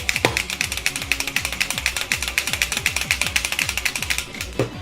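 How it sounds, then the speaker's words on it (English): Kamen Rider Build Full Bottle toys shaken by hand, a fast, regular rattling of small plastic parts moving up and down inside, close and fairly crisp throughout. "you could actually shake these bottles just like in the show"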